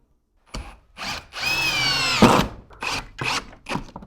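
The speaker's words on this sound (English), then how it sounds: "I'm gonna go ahead and start my screw where the stud is" A power drill drives a screw into a wall stud in short bursts: a few brief whirs, then one long sustained run that strains and slows as the screw seats, followed by several quick pulses. It sounds close and loud, with no talking.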